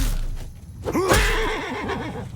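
A horse whinnies loudly in Mount and Blade II Bannerlord: one sharp, close, wavering neigh that trails off over a rumbling battle background.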